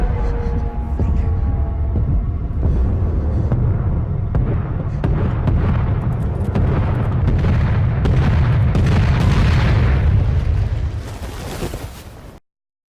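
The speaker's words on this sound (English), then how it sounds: "The bombs start off far away and come closer and closer." Bombs explode in a tense Dunkirk film scene, a sustained heavy rumbling roar of booms and blasts that builds and grows denser before cutting off abruptly into silence.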